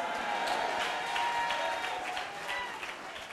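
Applause from an audience at a church gathering, a steady wash of clapping held at an even level throughout, fairly distant in a large hall, with no voices breaking through.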